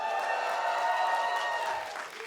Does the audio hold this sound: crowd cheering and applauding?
yes